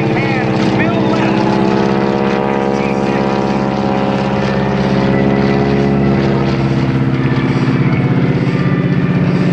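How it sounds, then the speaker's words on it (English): A propeller aircraft flies slowly past at a Blue Angels homecoming airshow, its engine giving a loud, steady droning hum that holds throughout with a gently shifting pitch. "going to see that with Bill Leff as he slows down to less than 100 miles per hour"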